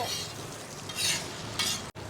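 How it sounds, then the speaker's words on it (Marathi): Cooked basmati rice is stirred into vegetables in a pan, giving soft scraping sweeps over a low background sizzle, with a few louder stirring strokes spread across the clip. "आता हा राईस सगळ्या भाज्यांमध्ये मिक्स करून घ्यायचा"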